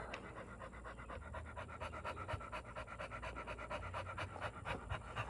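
A dog pants rapidly and steadily at close range for the whole stretch, rhythmic breaths quick and even, with no talking over it.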